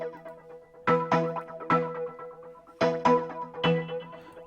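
A custom Afrohouse synth patch built in FL Studio, layering pitched tonal notes with percussive hits, plays a syncopated pattern of sharp plucky stabs that ring and decay between accents, close and clean with no voices.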